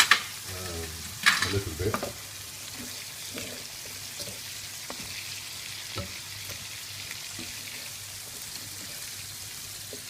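Spicy chicken in cream sauce sizzles in a pan as a utensil stirs it, with loud scraping strokes at first and then a steady, close simmering crackle with occasional soft taps.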